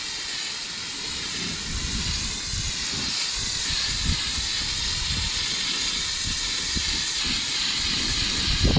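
Steady broadband hiss of a water spray rinsing down a 1990 Craftsman mower deck, continuous and fairly close throughout with slight fluctuations as the stream shifts across the metal.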